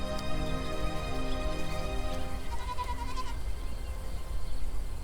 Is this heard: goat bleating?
yes